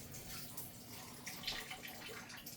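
Water being drained off cooked, tender broccoli in a kitchen, a faint steady splashing and trickling pour lasting a few seconds with no talking over it.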